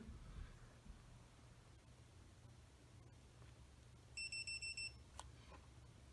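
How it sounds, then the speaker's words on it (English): Five quick electronic beeps in a row from a dog fence collar confirming pairing, small and faint, over quiet background hiss. "And you'll hear that 5 beep. That tells me that it's paired."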